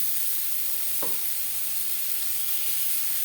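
Garlic frying with onion and tomato in a pan, giving a steady, even sizzle throughout with one brief clink near the start, close and moderate, no voices.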